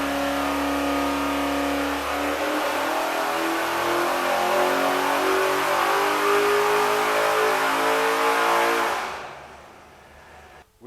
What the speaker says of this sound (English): the engine's been warmed up and we're ready to make our first test pull